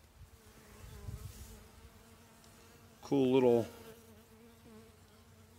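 Honey bees buzz at an opened California viewer hive, a soft low hum with one louder close pass of a bee; someone speaks briefly.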